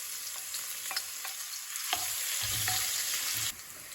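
Crushed ginger and six crushed garlic cloves frying in hot oil for a crab roast, producing a loud, dense crackling sizzle that swells briefly as the pieces are stirred, with no one speaking.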